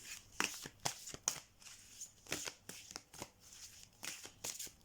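Tarot cards being shuffled by hand, a run of quick, close riffling and flicking bursts in an irregular rhythm, fairly quiet with no talking.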